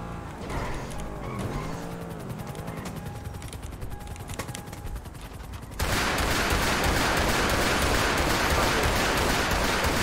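Rapid video game gunfire, dense bursts of shots, first under scattered voices and then a loud continuous barrage that fills the second half.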